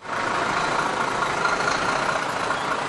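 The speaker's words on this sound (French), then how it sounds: "Des roues, un conducteur et un bruit de moteur toujours bien présent." A steady, loud delivery truck engine rumbles and drones continuously without change, a broad noisy hum close by, with no voices.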